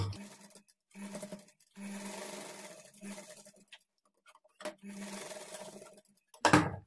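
Sewing machine stitching a small frill onto a child's lehenga top, running in several short bursts of steady whirring separated by pauses, close and clear, with a brief louder rustle at the end.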